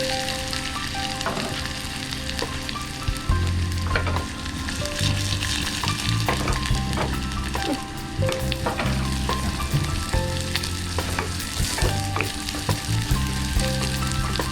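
Grated coconut, mustard seeds and dried chillies fry in hot coconut oil, giving a loud, continuous sizzle heard close, dotted with sharp pops and crackles and the scrape of stirring.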